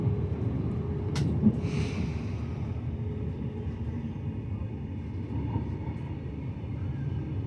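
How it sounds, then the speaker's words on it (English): Brisbane Redcliffe Peninsula line electric train running express, heard from on board as a steady low rumble of wheels and motors, with a brief sharp click and a short hiss near the start. "This is a Brisbane City and Springfield Central train running express to Bowen Hills"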